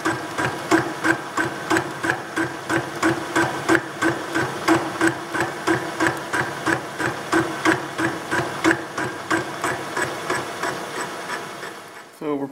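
A boring head turns a cutting tool that chamfers a radius on a metal toolmaker's adjustable V block, giving a steady repeating knock of interrupted cuts, roughly two per second, loud and close, before a clunk at the end.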